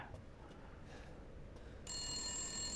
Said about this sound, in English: You don't have to answer this phone if you're speed running.